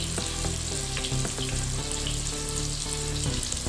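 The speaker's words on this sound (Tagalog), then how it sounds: "Let it fry nicely." Kofta meatballs fry in a pan with a steady, dense sizzle and crackle, close and continuous, with occasional soft stirring knocks; no voices.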